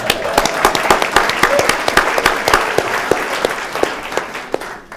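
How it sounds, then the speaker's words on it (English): An audience at a downtown civic event bursts into steady applause, dense close clapping with sharp individual claps standing out, continuing unbroken without talk. "Round of applause"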